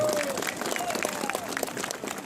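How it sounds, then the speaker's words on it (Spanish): Crowd at a street rally in Azapampa, Chilca, applauding, steady mid-level clapping from many people throughout, with a faint tonal whistle or voice drifting underneath. "Fuertes palmas para él, por favor."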